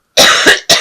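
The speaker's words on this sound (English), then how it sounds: "I'm so sorry about this cough." A woman's lingering cough sounds twice, close and loud: a long harsh first burst followed by a short second one, alone without speech.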